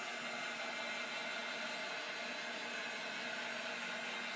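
A heat dryer blowing on ink printed on a fabric pillow, a steady continuous airy whoosh holding even throughout, with no talking.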